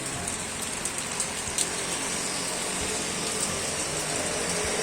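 Constant rain rushes in the background in Bhilai, broad and even, with a few faint clicks and taps scattered over the first couple of seconds.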